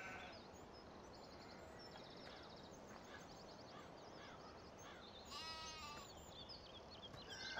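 Sheep on a farm in a farming video game, bleating repeatedly at a quiet level over a soft, steady background hiss, with a sharper, louder cry near the end.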